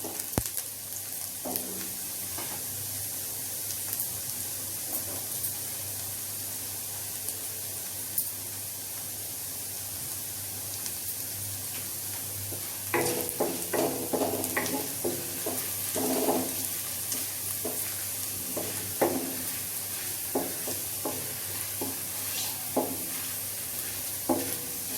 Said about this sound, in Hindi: अब इसमें डालेंगे कटा हुआ अदरक और लहसुन। इसको भी ब्राउन होने तक भूनेंगे।